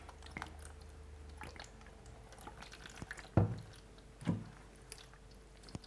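Liquid fabric dye is squirted from a bottle onto fabric for tie-dye, giving a couple of soft wet squelching bursts among faint drips and small handling sounds, close and quiet.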